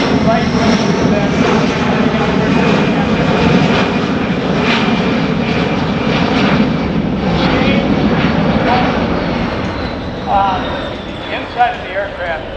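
A USAF C-17 transport jet roars past at the Dayton Air Show, a loud, steady broadband engine rush that fills the whole stretch and eases slightly near the end, with a narrator talking over it.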